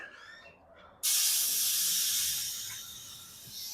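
Air hisses steadily into a tire through an open valve stem with the core removed on a 1952 Ford F1, a sudden loud, broad rushing hiss that starts abruptly and holds strong, easing slightly toward the end.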